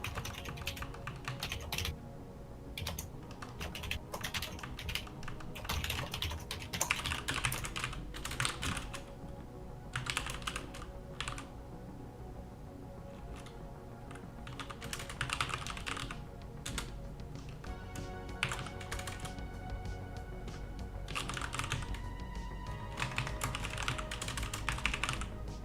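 Computer keyboard typing clatters in quick irregular bursts with short pauses between them, close and clear, with no talking.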